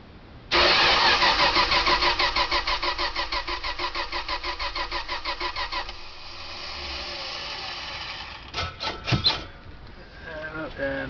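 A starter button cranks a carbureted engine in rapid, loud repeated pulses for about five seconds, then a steadier, quieter churn follows, with a few sharp knocks and brief talk near the end.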